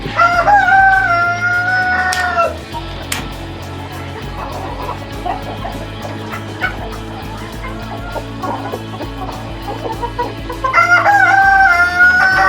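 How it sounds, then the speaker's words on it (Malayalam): Silver-shaded Brahma chickens, a large heavy fancy breed, crow loudly at the start and again near the end, with steady clucking and cackling in between, all close and busy like a crowded coop. "ഇത് ബ്രഹ്മയിലെ സിൽവർ ആണ് ഈ കിടക്കുന്നത് സിൽവർ ഷെയ്ഡുള്ള ബ്രഹ്മ കോഴികളാണ് ഈ കിടക്കുന്നത്"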